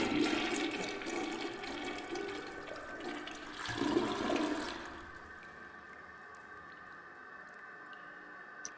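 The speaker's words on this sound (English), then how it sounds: "Okay, you can flush the toilet." A toilet flushes in the video game Toilet Rooms: a loud rush of water that swells, surges again, then drains away into a quiet trickle and low hiss.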